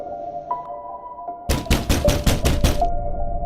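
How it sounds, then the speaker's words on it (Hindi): Rapid knocking on an old wooden cabin door, about six firm, hollow raps in quick succession, close and loud over a steady low hum. "रोहेल ने दरवाजे पर नॉक किया"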